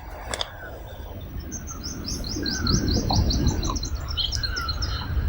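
Birds chirp and sing in a repeated series of short high notes, with a few sharper calls near the start, over a low rumble of outdoor background noise.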